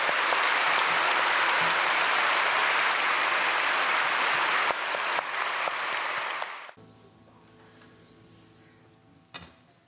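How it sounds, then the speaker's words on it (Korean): A church congregation at a Sunday worship service claps in thanks for a visiting pastor, a dense sustained round of applause that fades out after about seven seconds into quiet room tone with organ-like sustained tones. "우리 목사님께 다시 한번 감사의 박수 보내드리겠습니다."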